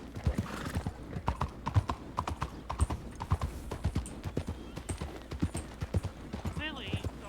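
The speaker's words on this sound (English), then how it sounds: "Clearly, the horses are there." Horse hooves clip-clop steadily outside in a western role-play video game set in 1903, a rapid, close rhythm of hoofbeats with a brief whinny near the end and some voices underneath.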